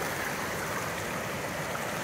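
Steady, loud rush of a fast mountain stream on the Pacific Crest Trail, water at least four feet deep tumbling over rocks, a continuous broadband roar filling the whole moment with no voices.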